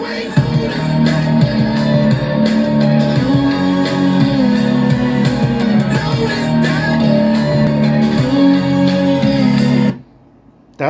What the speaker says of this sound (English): That's the sound of the two channels only, not the subwoofer.